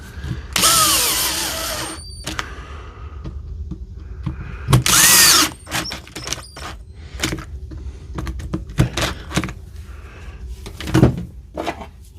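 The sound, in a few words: DeWalt DCD470 drill tightening chuck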